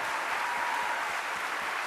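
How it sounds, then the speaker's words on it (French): Crowd applause at an ecologist political rally in France: dense, steady clapping fills the whole stretch at an even level, with no voices on top. "je veux qu'on applaudisse l'interdiction des PFAS qui est grâce à Nicolas Thierry"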